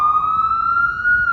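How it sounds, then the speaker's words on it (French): A police siren wails loudly and steadily for a moment, a single sustained tone close by. "C'est une sirène de keuf, ça."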